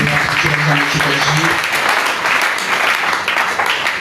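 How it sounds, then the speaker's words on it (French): Church congregation applauding and cheering for the Lord at a French-language worship service, a dense steady wash of clapping and voices filling the room for about four seconds. "Est-ce qu'on peut acclamer pour le Seigneur?"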